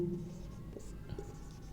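A pen writing on paper while working an arithmetic progression problem gives faint, close scratching in short strokes over a low steady hum, with no voice heard.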